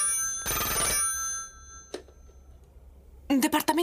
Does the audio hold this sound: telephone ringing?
yes